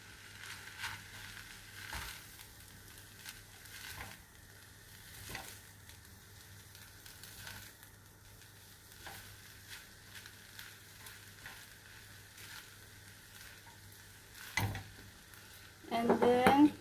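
Fried rice with tomato, pepper and sesame oil sizzles softly in a pan while being stirred, with scraping and light clatter throughout and a louder burst of stirring near the end.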